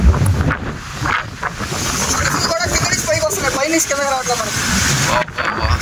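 Strong wind rushes across the microphone on a mountain slope at Udayagiri, gusty roaring buffets with voices talking over it throughout.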